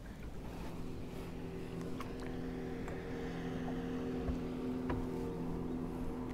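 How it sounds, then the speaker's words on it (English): A passing boat's low engine hum drones steadily nearby on the water in Georgia, with faint splashes and knocks scattered through it and no talking. "I'm waiting on a boat to pass by right now."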